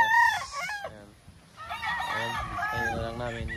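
Roosters at a game farm in Bicol crow loudly nearby, with more crowing and clucking from other birds overlapping in the background.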